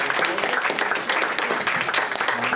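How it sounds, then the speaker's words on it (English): Audience at a comedy show applauds veterans in the crowd, dense continuous clapping filling the room at steady loudness throughout. "Give them a round of applause for those guys."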